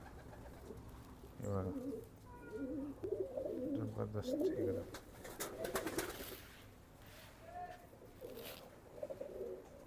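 Racing pigeons coo softly in a loft, low repeated throaty coos in short bursts close by, with someone talking over them and a few faint chirps.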